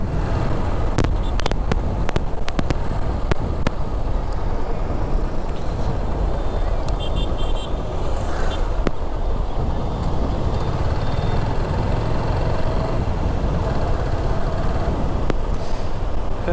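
A constant low engine drone runs throughout, loud and close like a boat motor, with occasional sharp clicks and a brief high whine.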